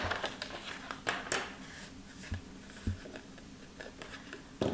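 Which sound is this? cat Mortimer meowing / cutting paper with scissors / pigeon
cutting paper with scissors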